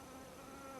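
Wasps buzz steadily at a nest where they are gathering wood pulp, a soft continuous insect drone heard up close, faint and alone for under a second.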